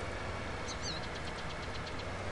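Tractor engine in the video game Farming Simulator 19, a steady idling drone with a light knocking texture, constant and even throughout, with a few faint high chirps in the background.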